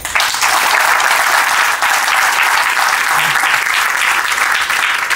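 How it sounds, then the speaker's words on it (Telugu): A large audience at a tailoring institute's anniversary celebration bursts into loud, sustained applause that fills the whole stretch evenly, a dense wash of many hands clapping with no voices rising above it. "please applause"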